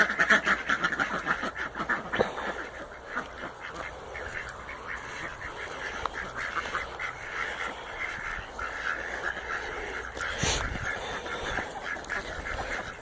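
A flock of free-range ducks quacking continuously outdoors, overlapping nasal calls close by with a steady busy texture throughout.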